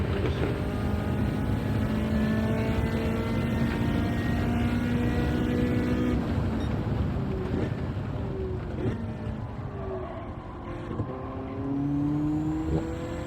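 A race car engine in Gran Turismo 7 drones and revs continuously, shifting pitch as the car accelerates and brakes through corners, loud and steady for the whole stretch, with a player speaking occasionally over it.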